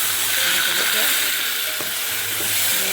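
Garlic sizzling in a pan with one cup of dried sweet mango tipped in, a steady broadband frying hiss with a few clinks and scrapes, close and moderately loud.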